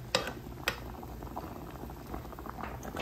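Potatoes boiling in a pot on a stove, a steady bubbling simmer with a couple of sharper pops near the start, close and moderately quiet, with no talking.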